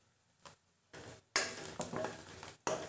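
Turmeric tipped into cooked onions in a pan, with scrapes and metallic clinks of a spoon against the pan, a few short knocks and a soft sizzle building through the moment.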